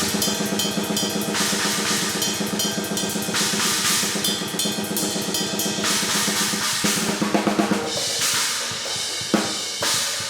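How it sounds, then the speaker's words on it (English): Isolated cymbal tracks from a fast, intense death metal drum recording: dense, relentless washes of crashes and rapid ride or hi-hat hits, loud and continuous throughout with no voices. "let's have a listen to all the cymbals."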